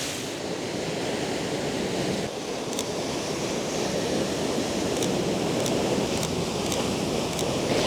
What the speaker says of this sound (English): there's a bunch of waves just breaking right here